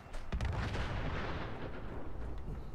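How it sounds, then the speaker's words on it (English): Nuka-Ball launcher from Fallout 4 firing outdoors, one heavy booming launch that rolls into a sustained rumbling roar lasting a few seconds. "let's test out this Nuka-Ball launcher"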